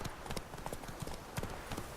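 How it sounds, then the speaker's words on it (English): A horse canters in The Witcher 3 video game, its hooves beating a steady, quick clip-clop rhythm on the ground, quiet and continuous with no talking over it. "Your horse doesn't lose stamina while cantering anyway"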